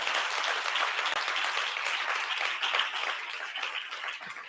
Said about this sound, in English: Let's give Professor Wadhams a big round of applause.